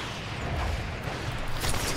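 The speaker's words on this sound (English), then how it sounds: "Too many explosions!" A continuous roar of explosions and rumbling blasts in the video game Just Cause 3 multiplayer, dense low thudding with crackling bursts throughout, growing slightly louder toward the end.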